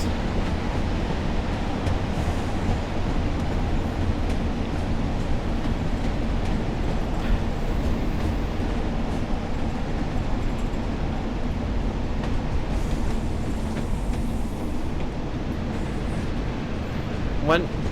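British Rail Class 142 Pacer on the Blackpool South branch, braking on the approach to a station, giving a steady, loud low rumble and rattle that continues unbroken for the full length.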